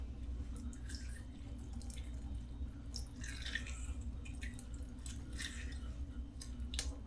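Lemons are squeezed into a cooking pot and the seeds are strained out by hand, giving faint, close wet squishes and soft drips in scattered bursts over a low steady background hum.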